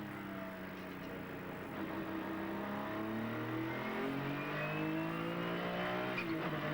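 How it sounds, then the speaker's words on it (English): A McLaren F1 GTR GT1 race car drives a circuit at the 1997 Zhuhai 3 Hours, its engine note climbing and shifting through gears in rising tonal sweeps, moderately loud and steady throughout. "the big GT1 car rides this circuit so smoothly"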